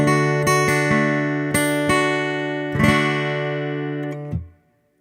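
Guitar strings strummed in a few loud chords, each ringing with a bright metallic clang and sustained harmonic overtones before fading out, heard alone with no talking.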